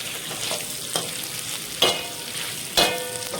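Goat brain (maghaz) frying in hot oil in a home kitchen pan, a steady broad sizzle with a few sharper crackles and spoon stirs, close and continuous with no talking.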